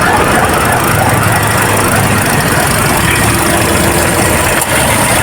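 A Toyota Vios with a Dual VVT-i engine and a leaking radiator idles after running about forty minutes, giving a steady, loud, even mechanical hum with a faint squeal-like edge throughout.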